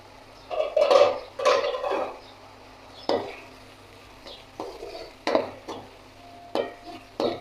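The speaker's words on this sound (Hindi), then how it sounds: "ये सारी चीज़ें मैं इसके अंदर डालकर इसको अच्छा सा भूनते हैं।" Garlic and green chilli paste fry in a pot for potato pulao, with a spoon scraping and clinking against the metal in irregular bursts over a soft sizzle.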